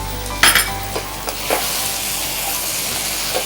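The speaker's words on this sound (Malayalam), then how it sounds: "ഒരു ഹൈ ഫ്ലെയിമിൽ തന്നെയാണ് ഈ വഴറ്റൽ പ്രക്രിയയെല്ലാം ചെയ്യേണ്ടത്" Squid being sautéed over a high flame for chilli squid, a steady loud sizzle with a few sharp scrapes and knocks of stirring near the start.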